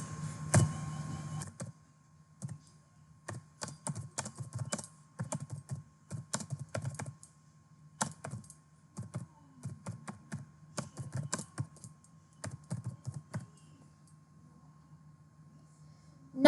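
Someone types a sentence on a computer keyboard in a quiet room, with bursts of close, crisp key clicks separated by short pauses.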